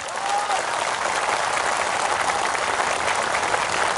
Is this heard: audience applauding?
yes